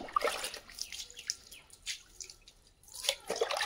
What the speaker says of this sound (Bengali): তো এইগুলো সব জল দিতে হবে